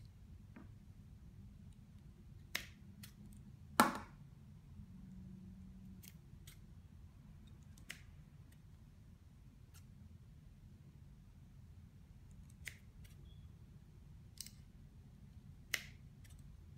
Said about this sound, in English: I'm gonna use some scissors.